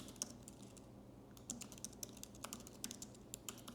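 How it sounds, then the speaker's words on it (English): Rapid clicking keystrokes on a computer keyboard, close and distinct, typed in short bursts with brief pauses, with no voice over them. "I would type something like"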